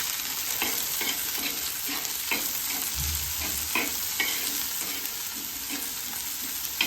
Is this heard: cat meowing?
no